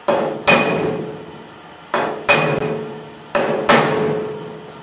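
A hammer strikes a nail while a motorcycle tow hitch is being fitted, landing three pairs of sharp, close metallic blows with short pauses between pairs.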